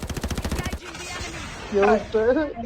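Video game gunfire rings out as a rapid string of sharp sniper shots in the first second, followed by scraping game sounds and a brief voice.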